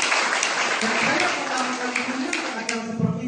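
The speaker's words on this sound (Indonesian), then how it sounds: "berikan juga tepuk tangan" A seminar audience claps in a dense burst of applause, with a voice talking over it for the whole short stretch.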